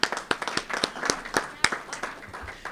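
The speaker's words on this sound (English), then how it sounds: "So let's just give Scott a round of applause." A small gathering at a courthouse reception and ribbon-cutting ceremony gives Scott a round of applause: a few scattered, distinct hand claps in uneven rhythm, moderately close and fairly quiet, with some murmuring underneath.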